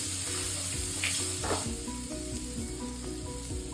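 Ground cumin paste and a quarter spoon of asafoetida sizzle and fry steadily in a hot pan, a close, continuous crackle with a few stirring scrapes and no talk.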